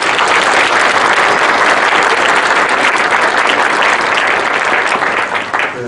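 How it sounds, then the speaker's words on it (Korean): An audience at a humanities lecture hosted by a court and Changwon National University breaks into loud, dense applause that holds steady throughout and fades slightly at the close. "뜨거운 박수 부탁드리겠습니다."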